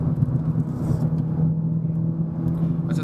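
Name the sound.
Renault Sandero RS engine roaring loudly climbing a mountain road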